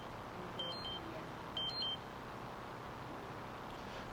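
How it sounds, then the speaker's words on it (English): A phone gives a low battery warning as two short, quiet double beeps about a second apart over a steady hum of room noise. "My phone's trying to tell me I'm dying."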